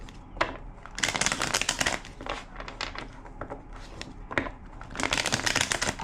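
A tarot deck is shuffled in repeated bursts of riffling and rustling card noise, close and fairly loud, with brief pauses between the shuffles.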